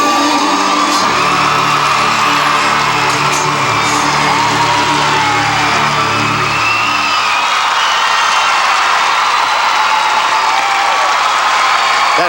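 A figure skating arena crowd delivers a standing ovation for a skater at a 1999 Ice Wars show, with loud, sustained applause, whoops and cheering that fill the whole span and fade slightly toward the end.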